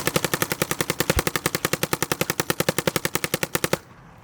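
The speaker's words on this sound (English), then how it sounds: "Let's play with a couple different firing modes and let's shoot it." A Planet Eclipse Ego LV 1.6 paintball marker fires a rapid, steady stream of about forty loud, evenly spaced shots for nearly four seconds, then stops abruptly.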